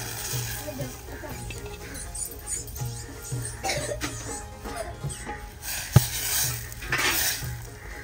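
Cooked moong dal being stirred into a tomato mixture in a pan, with a steady scraping stir, sizzling and occasional utensil clinks against the pan, plus one sharp knock near the end.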